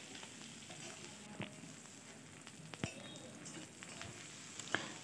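Chopped onions, green chillies and tomatoes fry for chilli paneer with a faint, even sizzle and a few sharp clicks from stirring.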